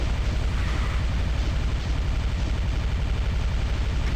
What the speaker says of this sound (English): there's a rocket landing right in my face